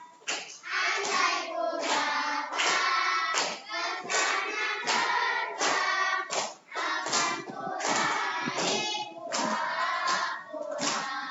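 Children clap their hands in unison during a classroom clapping chant, a steady run of dense, loud claps across the whole stretch with only brief pauses.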